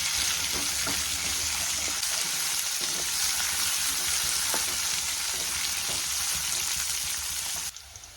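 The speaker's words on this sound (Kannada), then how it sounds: "ನೋಡಿ ಫ್ರೈ ಆಗಿದೆ ಕ್ಯಾಪ್ಸಿಕಮು." Capsicum and green peas fry steadily in a pan for lemon rice, giving a continuous close sizzle with faint stirring clicks that cuts off near the end.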